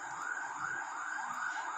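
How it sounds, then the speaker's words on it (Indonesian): Passing police car or ambulance siren wails in a steady rising and falling pattern, moderately distant and fairly quiet, with no talking over it. "biar lewat dulu Pak polisi atau ambulan"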